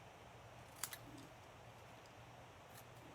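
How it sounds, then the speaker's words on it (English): Scissors cut the flagged end of card stock during card making, giving one or two quick crisp snips near the start, followed by a faint later snip over quiet room tone. "now we're going to cut our flagged end"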